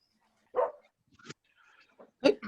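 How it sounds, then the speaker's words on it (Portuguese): A dog barks a few times from a distance in an otherwise quiet room, with two separate bursts of barking and faint sounds between them. "Barulho de cachorro."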